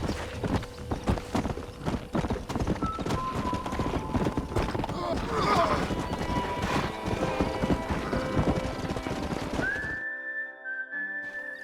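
Horse hooves clip-clop in quick repeated beats in the Red Dead Redemption video game, with a whinny and some whistling mixed in, loud and continuous until the hoofbeats cut off near the end.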